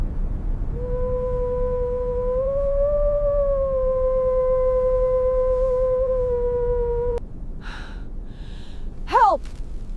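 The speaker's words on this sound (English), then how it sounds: "The wolves." Wolves in a Siberian blizzard give one long, loud, wavering howl that sustains for several seconds over a windy roar, then breaks off, followed by a few short yips and a brief rising cry.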